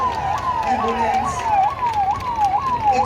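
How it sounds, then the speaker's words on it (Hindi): An ambulance siren wails in a steady repeating rise-and-fall sweep, roughly every half second, loud and sustained over a background of traffic and crowd murmur. "एम्बुलेंस"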